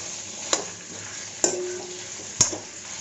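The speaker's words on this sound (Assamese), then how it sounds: "ভালকৈ ভাজি থাকিব লাগিব" Local chicken frying in a pan, a soft continuous sizzle broken by three sharp, close clanks of a spoon against the pan at regular intervals.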